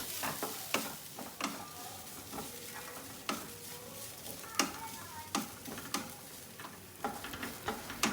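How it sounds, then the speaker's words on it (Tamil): Garlic cloves and a small piece of ginger fry in a pan for a frog masala, with a steady sizzle broken by sharp clinks and scrapes of a spoon stirring at an uneven rhythm. "இப்போ இதில் சேர்த்துருக்க பார்த்திங்கன்னா ஒரு நாலஞ்சு பல் பல் பூண்டு சேர்த்துருக்குறேன் ஒரு சின்ன துண்டு இஞ்சி சேர்த்துக்கலாம் இது எல்லாமே ரைட்டாக ரோஸ்ட் பண்ணிவிட்டு"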